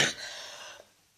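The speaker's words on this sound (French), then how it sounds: "je suis désolée pour la toux" A woman coughs sharply once close to the microphone, the rasp trailing off into near silence before a second abrupt cough.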